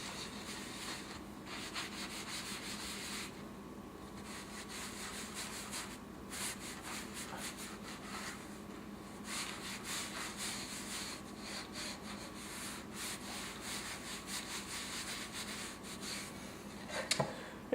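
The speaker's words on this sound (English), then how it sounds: "And so now we're just going to scrub it off." A wooden cutting board scrubbed clean after lemon essential oil is sprinkled on it, making a continuous brisk rubbing sound in quick repeated strokes, close and fairly quiet, with a small knock near the end.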